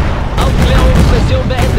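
Gunfire in the WWII strategy game Blitzkrieg 2, set at Stalingrad, comes as a dense, loud burst of overlapping shots and rattles that fills the short stretch without a break.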